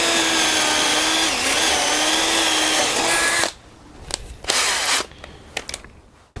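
Cordless 4-in-1 drill driver from a discount store running at a steady high whine for about three seconds, then stopping, followed by a few short clicks and handling knocks up close.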